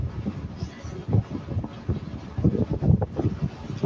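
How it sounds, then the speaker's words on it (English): Gusty outdoor wind buffets a microphone on a porch, a rough low rumbling roar that swells and dips in uneven bursts, fairly close and constant. "So it is windy today."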